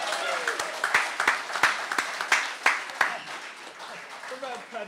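A concert audience claps for a Donegal performer, a short burst of applause with distinct hand claps that thins out, while someone talks over it.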